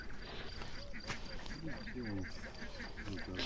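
Soft, quiet quacking calls from small ducks repeat in short bursts against a low background hum, with faint speech mixed in.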